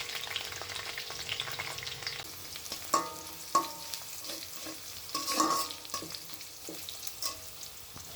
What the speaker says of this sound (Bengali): রসুনটা একটু ভেজে সুন্দর ফ্লেভার ছড়ালে ৩ টেবিল চামচ পেঁয়াজ কুচি দিয়ে দিলাম।